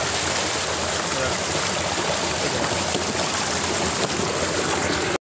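Water pours steadily into a homemade fish trap, a constant close rushing and splashing flow that runs unbroken until it cuts off at the very end.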